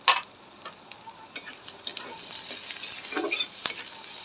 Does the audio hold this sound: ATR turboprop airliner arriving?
no